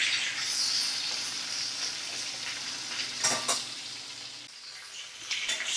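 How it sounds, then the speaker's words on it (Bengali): Large freshwater prawns fry in hot oil over a medium flame, a steady close sizzle with a few brief stirring clatters, no talking. "মাছগুলোকে আমি ভাজছি।"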